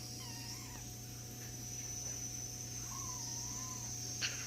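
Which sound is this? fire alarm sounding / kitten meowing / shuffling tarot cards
kitten meowing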